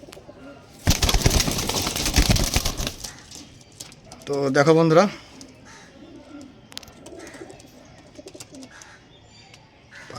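Pigeons flutter and coo nearby: a loud burst of wing flapping early on, then a short cooing call, with someone talking over parts of it.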